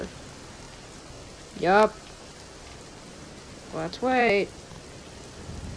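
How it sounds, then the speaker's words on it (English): Rain hisses steadily in the background of a horror video game, with no clear thunder. A voice briefly talks over it twice. "Let's wait until the rain is over."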